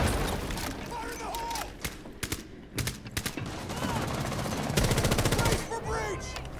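Video game gunfire in rapid automatic bursts and single shots, loud and close, with a long sustained burst near the end and someone speaking over it.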